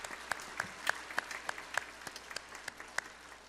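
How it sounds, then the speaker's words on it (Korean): Sparse applause from a church congregation at a Sunday worship service welcoming newcomers, a few distinct claps ringing out at a steady rhythm over quiet, soft room tone. "박수로 환영합니다"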